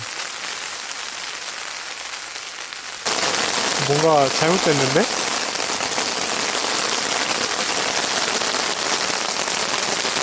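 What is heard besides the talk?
heavy rain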